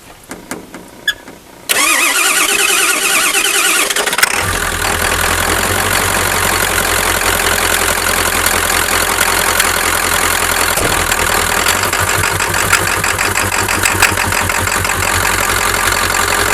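A 1997 Ford pickup engine that has sat for ten years cranks briefly, catches and fires up, then settles into a loud, steady, slightly uneven idle that continues to the end with no talking.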